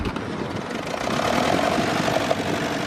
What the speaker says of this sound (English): Number 3, Ferguson TE20.